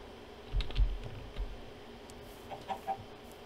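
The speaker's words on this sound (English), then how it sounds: "he's just got some chickens over here on this part." Soft Minecraft chicken clucks come in a few short bursts amid faint keyboard clicking, quiet and brief.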